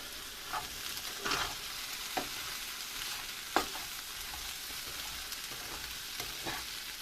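Stir-fry cooking over medium heat in a pan, a steady close sizzle broken by a few soft scraping stirs and light knocks, no talking.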